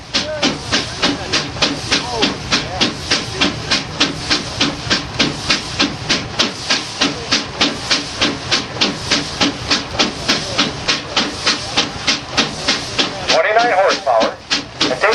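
A steam traction engine working hard under load at a Rollag, Minnesota show. Its exhaust chuffs loudly in a fast, steady rhythm throughout, and a voice cuts in near the end.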